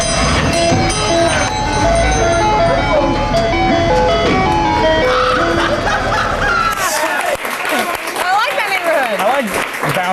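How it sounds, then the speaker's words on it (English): An ice cream truck jingle plays the 'Does Your Chain Hang Low' tune loudly for several seconds, then gives way to a crowd laughing and applauding with voices talking. "You know you live in the ghetto when your ice cream truck driver is bumping, does your chain hang low?"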